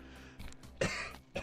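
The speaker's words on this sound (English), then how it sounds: "I'm about to cough" A person coughs twice, the first cough a harsh, forceful burst after some faint throat noises and the second a shorter one at the end, close and moderately loud.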